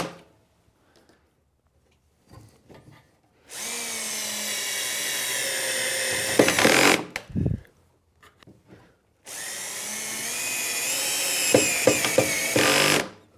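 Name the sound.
driving pocket screws into a bath vanity frame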